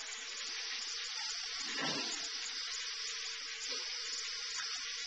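Water runs steadily from a tap with a soft hiss, splashing lightly and changing briefly as something passes under the stream.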